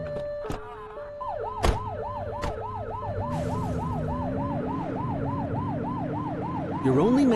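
A police car siren wails in a rapid, regular rise-and-fall pattern in The Precinct video game, loud and close, over a low engine hum, with a few sharp clicks at the start.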